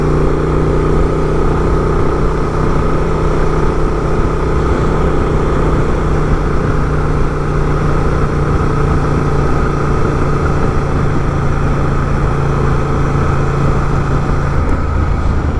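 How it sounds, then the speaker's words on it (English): A Honda Transalp mid-sized adventure bike with stock, very quiet exhaust, its engine note a faint steady drone beneath continuous broadband road and wind noise while riding, unchanging throughout with no voices. "You can only just hear the engine exhaust note."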